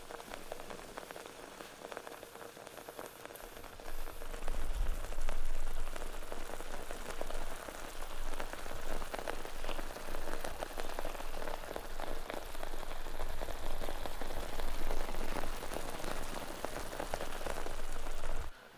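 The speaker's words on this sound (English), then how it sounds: "I'm going to let that boil away in the flavour of the cider" Steak boils in cider in a pan at an abandoned mill camp, giving a dense, steady bubbling and spitting crackle that stays continuous and fairly loud throughout.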